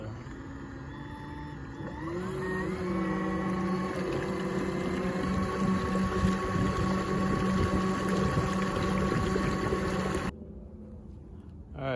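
PacMotor electric motor front-mounted on a kayak, running on water with a steady whine that climbs in pitch around two seconds and holds before cutting off near the end, heard fairly close over faint water noise.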